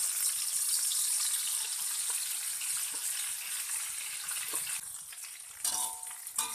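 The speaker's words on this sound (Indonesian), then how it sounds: "Seterusnya kita juga goreng kresek udang ebinya ya, biar benar-benar matang." Dried shrimp (udang ebi) are deep-fried in a pan. A dense, steady hiss of bubbling oil carries on throughout, with a few faint clinks and a small shift in texture near the end. No one talks.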